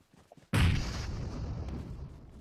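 Grenade blast in PUBG Mobile: one sudden loud boom that decays into a long rumbling tail, heard alone with no talk.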